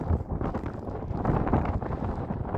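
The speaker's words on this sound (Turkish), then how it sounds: "Hava oldukça rüzgarlı." Loud, blustery wind on Uludağ mountain buffeting the microphone, a rough continuous roar with gusty surges and no voices.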